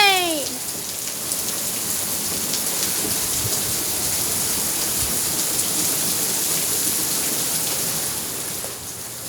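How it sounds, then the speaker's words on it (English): Heavy rain pours down steadily during a flash flood warning, a dense continuous hiss of drops on surfaces that holds constant and loud throughout. "Look at that rain."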